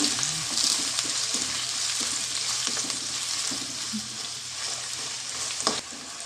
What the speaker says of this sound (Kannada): ನೋಡಿ ಇಲ್ಲಿ ಚೆನ್ನಾಗಿ ಈರುಳ್ಳಿ ಫ್ರೈ ಆಗ್ತಾ ಇದೆ ಬ್ರೌನ್ ಕಲರ್ ಬರ್ತಾ ಇದೆ